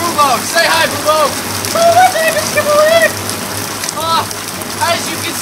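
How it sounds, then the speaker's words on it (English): Rain pours steadily outdoors as a loud, continuous hiss, while a voice speaks briefly over it in short, pitched phrases. "As you can see here, it's quite rainy"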